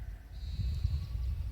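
Sheep and goats bleat at a nomadic herders' camp in the forest, a few nasal calls at moderate distance over low rumbling background noise.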